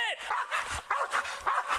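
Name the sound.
police canine dog barking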